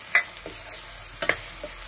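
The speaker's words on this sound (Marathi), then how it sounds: "मऊसूत होईपर्यंत आपल्याला हे थोडंसं भाजून घ्यायचं आहे" A tomato and egg masala gravy is stirred and roasted in a pan, with a few soft scraping strokes over a faint, steady sizzle.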